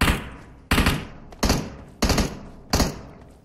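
PUBG Mobile video game gunfire: five loud, evenly spaced shots or short bursts, each with a quick decay, roughly one every 0.7 seconds, with no voices.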